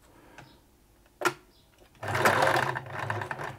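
A 1980s Singer Futura sewing machine runs in reverse, starting with a few isolated clicks before settling into a steady, loud, close mechanical whir with a rapid stitching rattle.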